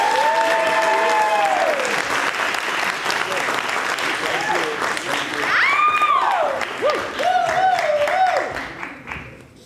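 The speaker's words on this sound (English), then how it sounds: "Let's give a round of applause." Theater audience at a PLAYWORKS 2024 showcase night applauds, loud and sustained, with scattered cheers and whistles mixed in before it fades.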